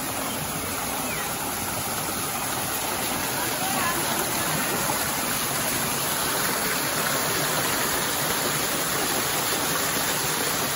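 A waterfall at an aviary pours steadily, a constant broadband rushing hiss that stays even throughout, heard close with no clear voices over it.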